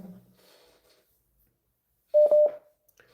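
A phone sounds a short cluster of two or three quick electronic tones after a brief murmur and a stretch of near silence.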